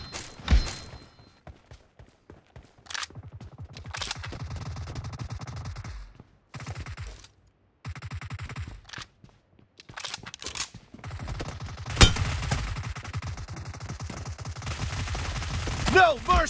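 Bursts of automatic gunfire and single shots from a PUBG Mobile battle, loud and close, coming in clusters with short gaps of near silence, some thuds and footsteps mixed in, with players talking over the action.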